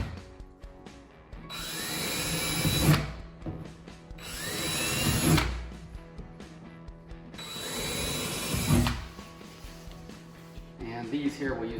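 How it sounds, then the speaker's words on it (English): A power drill with a 3/16 inch bit whirs in three bursts, each winding up and grinding through the wood of kitchen cabinets, with short pauses between them. "I like to run a 3/16 inch drill bit through the back of all those centers."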